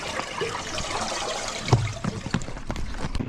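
Water trickles and gurgles beneath the ice of a frozen river, a soft irregular running flow with a few brighter splashy drips, close and alone.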